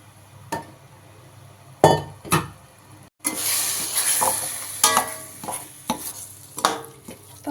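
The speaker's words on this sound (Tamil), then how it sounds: "வெங்காயம் தக்காளி அரைச்சி வச்சது அதை சேர்த்துக்கலாம்." Ground onion-tomato paste hits hot oil in a pan with turkey berries for a tamarind kuzhambu, raising a close, hissing sizzle. Several sharp clinks and scrapes of a spoon against the pan cut through at irregular intervals.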